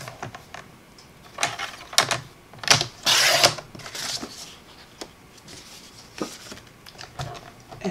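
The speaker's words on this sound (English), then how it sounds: "And I'm just going to cut this in half and then in half again." Cardstock pieces being cut in half, then in half again, with sharp rasping slices and one longer sliding cut, close and moderately loud, with soft handling rustles between cuts and no talking.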